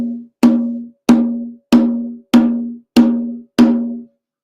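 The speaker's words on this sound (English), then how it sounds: "If you have a conga drum, I'm going to just grab this. It'll sound like this." Six evenly spaced tone strokes on a conga drum, each a clear, pitched hand slap that rings briefly before the next, close and prominent with no other sound.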